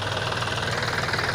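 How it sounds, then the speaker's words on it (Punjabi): A tractor engine idles while it is being serviced outdoors at a village herbal garden, with a continuous close, rumbling, slightly knocking drone and no break or change in pace. "ਇਹ ਮੁੰਡੇ ਟਰੈਕਟਰ ਦੀ ਸੇਵਾ ਕਰ ਰਹੇ ਆ"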